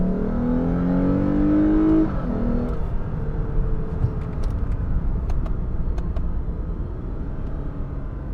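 A Lexus IS 350 rear-wheel-drive sedan engine revs while driving, a loud rising drone for about two seconds that drops away into a steady lower engine hum and road noise.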